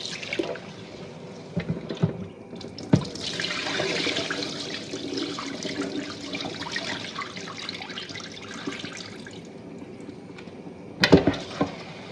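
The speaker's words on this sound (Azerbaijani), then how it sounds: "O suyu qaynayana qədər, ona su qoyacağım." Water poured into a kitchen pot, a steady close pour and trickle, with a few sharp clanks of cookware near the start and again near the end.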